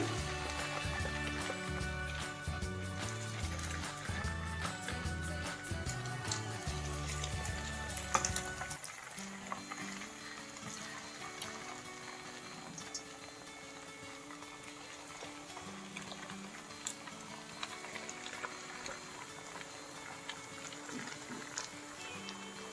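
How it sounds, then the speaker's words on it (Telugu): Chana dal jantikalu (murukku) frying in hot oil, a steady close sizzle with crackling bubbles; an abrupt shift midway leaves a softer, thinner sizzle continuing alone. "ఇలా ఈ కలర్ వచ్చే వరకు వేయించుకోవాలి అలాగే జంతికలన్నీ ఇలాగే వేసుకోవాలి"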